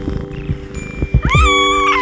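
A small, timid indoor kitten gives a loud, close, drawn-out meow near the end, after some brief rustling and handling sounds.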